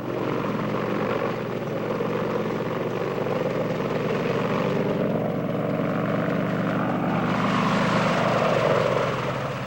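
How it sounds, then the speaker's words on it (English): Apache attack helicopters droning overhead, a continuous throbbing rotor and engine roar that holds steady and swells slightly near the end. "Apache attack helicopters were the only Army units to take part in the air campaign."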